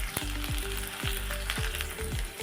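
Chopped onion and green chillies frying in hot oil with mustard seeds and cumin, a steady loud sizzle with crackling pops close up and no talk.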